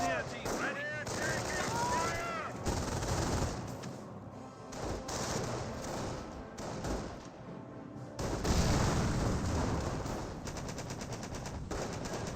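Bursts of small-arms and machine-gun fire from Company of Heroes 1, rifle squads clashing with Grenadiers at close range, dense rattling volleys running throughout with heavier thumps toward the end, under steady commentary.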